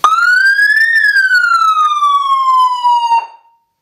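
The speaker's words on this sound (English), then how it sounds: "if you press this, you will get a single cycle of siren wail and blue lights." A loud police siren gives a single wail, sweeping up then slowly gliding down before cutting off abruptly.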